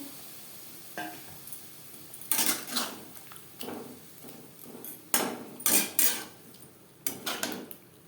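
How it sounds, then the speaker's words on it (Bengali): Metal spatula scraping and clanking against a pan while boiled matar dal is stirred into fried bitter gourd, in irregular clattering strokes with quiet pauses between. "উচ্ছের সাথে সেদ্ধ করা ডাল বেশ ভালো করে মিক্সড করে দেবো"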